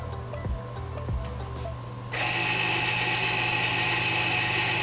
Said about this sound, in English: So right now it's just releasing the caliper.